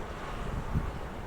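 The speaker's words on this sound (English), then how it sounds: "Whoa, Nelly, it's windy." Gusty wind buffets the microphone in an open outdoor spot near an airport on Bougainville, a brief low roaring rush with no voices.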